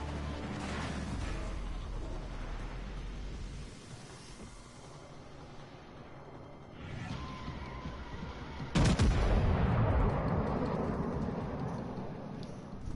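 Naval gunfire in World of Warships Legends, rumbling salvos and distant booms followed by a loud, sustained roaring impact blast midway.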